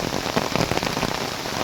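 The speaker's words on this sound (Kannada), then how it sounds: "ಜೋರು ಬರ್ತಾ ಉಂಟು ಮಳೆ, ಚಂಡಿ ಆಗ್ತಾ ಉಂಟು" Heavy rain pours down on surfaces, a dense, loud, even patter of drops with no pauses and no voices.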